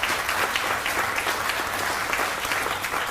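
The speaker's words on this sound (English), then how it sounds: "so give him a round of applause for thanking" Steady audience applause at a teacher of the year celebration, a dense, even roar of many hands clapping together, sustained and fairly loud throughout.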